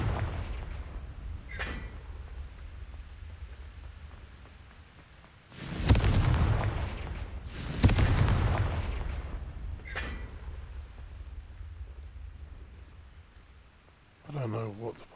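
Confringo fire spell blasts in Hogwarts Legacy: two loud, close, booming explosions about two seconds apart, each with a rumbling decay, set among quieter game sounds and softer hits.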